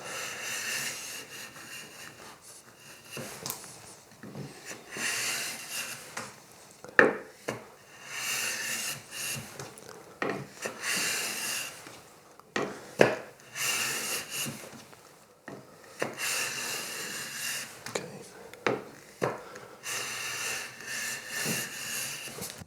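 A finely set hand plane takes shavings off a wooden pencil case, each long rasping stroke followed by a brief pause, repeating several times at close range with no talk.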